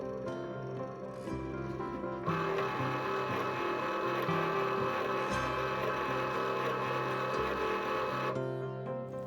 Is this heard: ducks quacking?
no